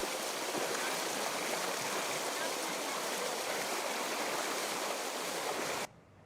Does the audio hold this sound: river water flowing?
yes